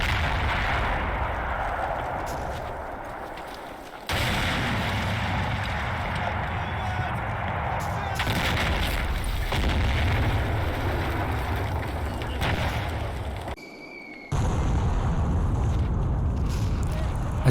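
An artillery barrage in the wargame Combat Mission Fortress Italy rumbles on as a dense, continuous roll of distant booms and blasts, steady for most of the stretch with one short lull, while a voice talks over it.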